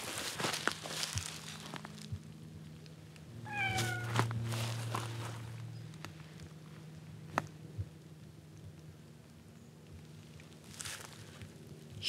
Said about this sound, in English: Another one I like to call Fluffy because, well, he has fluffy fur.